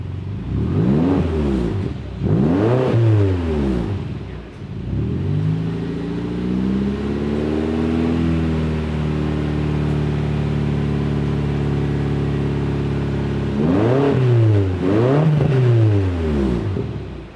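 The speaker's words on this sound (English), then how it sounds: "this X5M, which has got a pretty special S63 twin-turbo V8" A BMW X5 M's S63 twin-turbo V8 on its current exhaust revs hard several times, rises and holds a long drawn-out rev, then settles before a final pair of sharp blips; loud and close.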